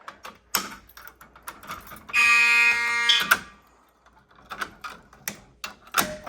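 A fire alarm blares one steady, loud tone for about a second, surrounded by sharp clicks and taps before and after.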